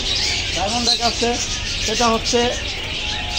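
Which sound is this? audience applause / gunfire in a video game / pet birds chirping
pet birds chirping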